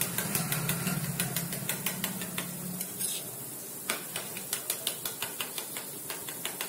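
Masala soya chunks stirred in a pan with kasuri methi and coriander powder: a steady run of light scraping clicks from the spoon against the pan, with a soft low hum under the first half.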